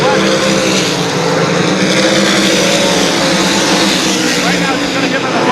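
Sprint cars race at New Smyrna Speedway in the Southern Sprint Car Shootout Series, with a loud, steady engine roar that fills the whole stretch without a break.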